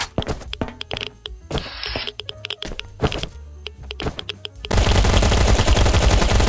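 Rapid automatic gunfire from the Last Island of Survival video game, bursts of loud shots crackling in quick succession, then a dense sustained roar of fire near the end.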